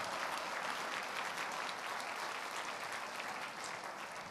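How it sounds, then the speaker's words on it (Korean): Steady, dense applause from an audience at a graduation ceremony, a continuous wash of many hands clapping at even loudness throughout, with no voices standing out. "큰 박수로 축하해 주시기 바랍니다."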